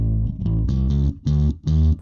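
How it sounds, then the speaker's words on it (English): A solo bass guitar plays a short riff of repeated low notes through a dynamic equalizer, its tone carrying a slight gritty distortion, loud and close with brief gaps between phrases. "You can hear there's a little bit of distortion on the bass guitar"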